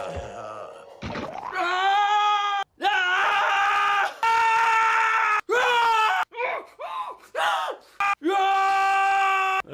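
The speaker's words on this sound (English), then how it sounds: "he shared several outtakes of Michael doing the crazy screams that are kind of funny" A man lets out a run of wild, exaggerated screams and yells in recording-session outtakes, loud, strained bursts separated by short gaps, some wavering and broken.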